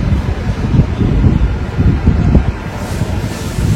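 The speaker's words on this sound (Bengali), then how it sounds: "এত পরিমাণে হাওয়া দিচ্ছে।" Strong wind gusting across a balcony, a loud low rumbling buffet of air against the microphone, steady and close throughout with no talk.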